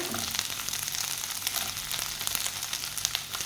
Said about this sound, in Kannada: ಸ್ವಲ್ಪ ಬೆಳ್ಳುಳ್ಳಿ ಹಾಗೂ ಶುಂಠಿಯನ್ನು ಹಾಕ್ಕೊಳ್ತಾ ಇದ್ದೇನೆ ಹಾಗೂ ಇಂಥ ಮೆಣ ಮೆಣಸನ್ನು ಹಾಕ್ಕೊಳ್ತಾ ಇದ್ದೇನೆ ಚೆನ್ನಾಗಿ ಫ್ರೈ ಮಾಡ್ಕೊಳ್ಳೋಣ